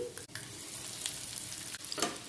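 Loud, steady sizzling of patra (rolled colocasia leaf snacks) frying in hot tempering oil throughout, with a few faint scrapes of stirring.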